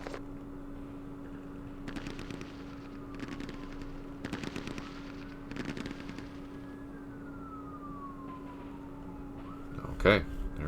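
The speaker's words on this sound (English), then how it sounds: "Sorry for the siren, if you can hear that." A siren wails steadily in the distance, its pitch slowly sliding down, while bursts of gunfire from the wargame Campaign Series East Front crackle over a constant low hum.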